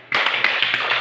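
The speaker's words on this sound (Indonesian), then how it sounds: "Nah, tepuk tangan untuk Ina dulu." A class of third-grade pupils bursts into applause for Ina, a dense, close burst of many hands clapping that starts suddenly and holds steady for about a second.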